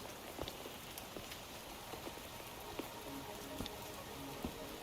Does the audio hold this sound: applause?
no